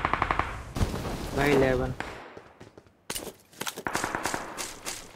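Rapid automatic gunfire in the mobile battle-royale game BGMI on the Livik map, loud bursts of close shots in quick rhythmic strings, broken by a player shouting over them.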